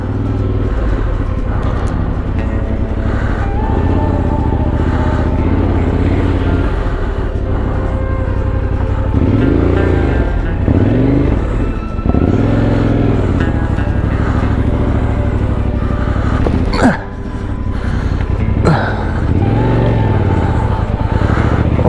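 Off-road motorcycle ridden solo through a shallow water crossing on a Baltic trail in Estonia, its engine rumbling steadily and loud up close throughout, with revving swells and a brief sharp dip near the middle.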